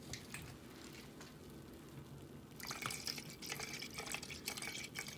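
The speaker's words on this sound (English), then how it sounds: "I'm going to add 3 ounces of witch hazel." Witch hazel is poured into a homemade aloe vera hand sanitizer mixture, a soft, faint, steady trickle that begins with scattered drips and then runs more fully, close by with no talking.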